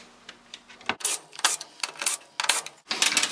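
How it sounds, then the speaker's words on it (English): Screws being backed out of the pressure switch brackets on a Lennox G61 furnace, heard as a series of close, sharp metallic clicks and scrapes in uneven bursts, with no talking. "The first thing you want to do to remove the pressure switches is remove the 4/4-inch screws."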